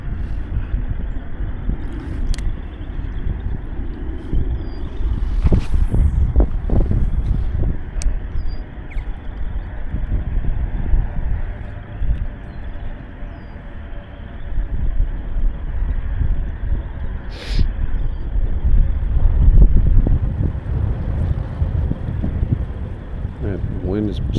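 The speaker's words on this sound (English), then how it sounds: "Wind is still blasting pretty good." Strong wind at Harrier Lake, Illinois, roaring and buffeting across the microphone in heavy low rumbling gusts, loud and continuous, with someone talking intermittently over it.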